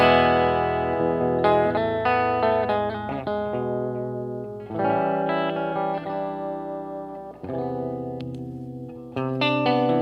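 Electric guitar played through a real amplifier with effects, distorted chords and riffs ringing out with chorus and echo, strummed phrases loud and continuous for the whole stretch with brief pauses between figures and no talking.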